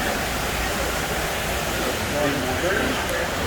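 Water rushes steadily beside the boat on the Epcot Living with the Land ride, a loud continuous broadband wash like surf or a waterfall filling the whole moment, with faint voices mixed underneath.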